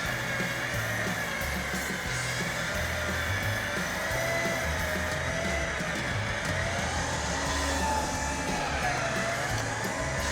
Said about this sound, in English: Let the winch catch up.